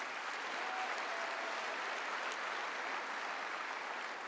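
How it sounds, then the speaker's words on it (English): A large crowd at a Turning Point USA political rally claps in a continuous, even roar of applause, steady and full from start to finish. "Go on, give them a round of applause."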